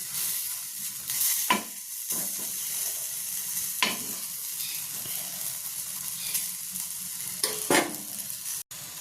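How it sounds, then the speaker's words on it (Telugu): Chopped okra is stir-fried in a dry pan without oil, giving a soft, steady sizzle. Several sharp scrapes and clanks of the spatula turning the pieces cut through at irregular intervals. "ఇలా టర్న్ చేస్తూ వేయించుకోవాలి."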